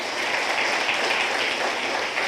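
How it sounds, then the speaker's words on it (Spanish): A church congregation applauds, a dense, sustained wash of clapping at an even, fairly loud level, with no voices. "¿Cuántos podemos darle un aplauso al Señor?"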